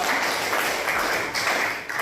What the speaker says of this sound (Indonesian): Berikan tepuk tangan dulu untuk kelompok 2.